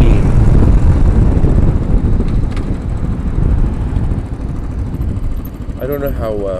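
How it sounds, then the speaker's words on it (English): Gusty wind buffets the microphone on a Royal Enfield motorcycle ridden at night through Times Square in New York, a loud, rough rush mixed with engine and traffic noise, with a voice speaking over it. "the wind is quite gusty, so I'm being blown around a little"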